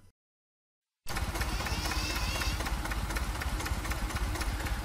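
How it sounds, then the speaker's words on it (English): After a second of silence, a large ship engine in an engine room starts up and runs steadily with a low, rumbling chug and mechanical clatter, loud and close. "the foghorn, the engine room, which is basically one of several engines you hear from the original foghorn"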